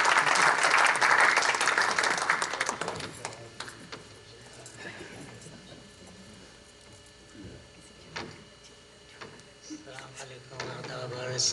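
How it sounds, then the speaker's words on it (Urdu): Applause welcomes a poet to the stage at an Urdu literary tribute event, loud at first then fading into scattered claps and room noise with a few knocks and shuffles. "بھرپور تالیوں سے استقبال کیجئے جناب"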